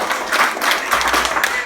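Wedding guests applaud together, a steady, dense patter of clapping that fills the whole short stretch at moderate loudness with no pauses.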